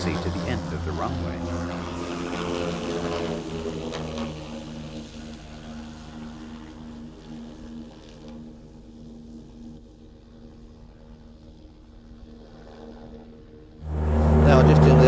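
An airship's engines droning steadily on takeoff and climb after a short ground run, a sustained low hum that fades and thins, then swells loudly near the end.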